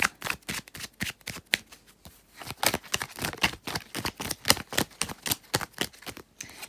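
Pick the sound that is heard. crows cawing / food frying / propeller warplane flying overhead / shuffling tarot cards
shuffling tarot cards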